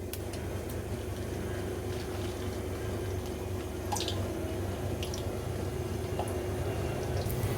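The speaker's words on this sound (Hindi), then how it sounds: "बहुत ही आराम से इसमें हम डालेंगे भटूरा।" Bhatura dough frying in hot oil in a kadai gives a steady, even sizzle and bubbling throughout, with a few faint pops and crackles.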